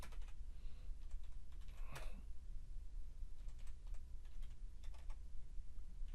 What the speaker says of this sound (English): just as I type this now